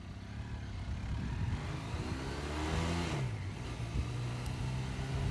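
Ural Neo 500 motorcycle engine during a road test, running steadily and then revving up and back down as it downshifts with rev matching, a continuous close engine note throughout.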